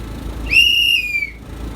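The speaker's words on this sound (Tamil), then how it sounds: "அண்ணன் விசில் அடிக்க ஸ்டார்ட் பண்ணிட்டாரு" A single bright whistle blast aboard a Kerala houseboat in Alappuzha, rising quickly to a steady shrill tone for about three quarters of a second before sliding down and cutting off, over quiet background noise.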